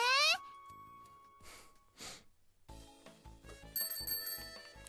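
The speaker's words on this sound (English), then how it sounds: "We hear a bell just moments before a bike rushing at breakneck speed suddenly approaching from behind barely misses us." A bicycle bell rings in a video game, a bright quick metallic ring at the start followed by soft whooshing sounds and light game music.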